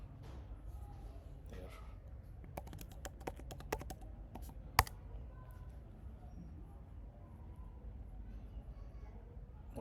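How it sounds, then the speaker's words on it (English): Fingers tap a computer keyboard in a short burst of quick, light keystrokes while entering a WebLogic password, faint and close against a low room hum. "So we will give our WebLogic password here."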